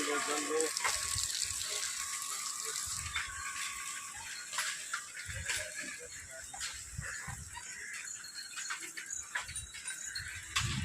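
A waterfall pours steadily in the background while Kanwar pilgrims bathe in it and talk and call out over it, on the walking route from Sultanganj to Deoghar.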